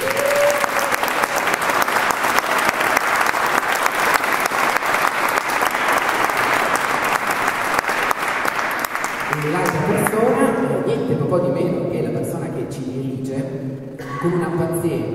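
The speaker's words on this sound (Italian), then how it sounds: "Vi chiedo un applauso." Audience applause for a choir concert inside a church, sustained loud clapping filling the space for about nine seconds, then giving way to softer clapping mixed with tonal sound and voices.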